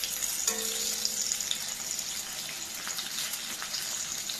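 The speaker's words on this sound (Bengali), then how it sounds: "এই যে হচ্ছে পটল ভাজা" Pointed gourd (potol) slices fry in oil in a home kitchen pan, giving a steady, soft sizzle and crackle at moderate closeness, with a faint brief hum near the start.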